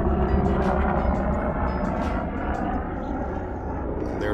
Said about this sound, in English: Excuse the plane flying over